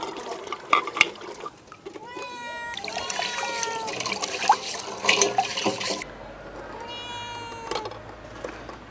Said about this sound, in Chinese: 鸡蛋有点脏，我去洗一下。